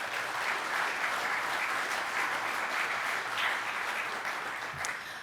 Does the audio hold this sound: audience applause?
yes